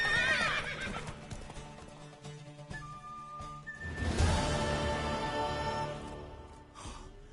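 A horse neighs and whinnies loudly near the start of a video game scene, then hooves clip-clop amid crashing game sounds and music, with the horse calling again partway through.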